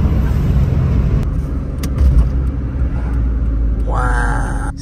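Suzuki Alto RSR accelerating in fourth gear: a steady, heavy engine rumble with road noise from inside the car, and a rising whine swelling toward the end.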